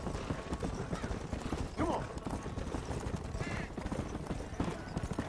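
Horse hooves clip-clop at a steady gallop in Red Dead Redemption, continuous and fairly loud beneath a busy bed of game ambience, with a brief whinny-like burst partway through.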